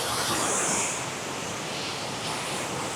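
Running water in Edinburgh, a steady broadband rush like a stream or weir flowing nearby, continuous and fairly loud with no voices.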